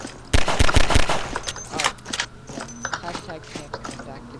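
Several loud shotgun blasts in Half-Life 2 Deathmatch crack out in quick succession at the start, followed by lighter clattering game noises and a voice talking.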